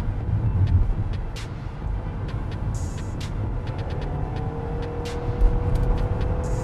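A car with a CVT gearbox accelerating at full throttle on kickdown, a loud steady engine drone with rumbling road noise and brief high clicks, heard from inside the car, no talking.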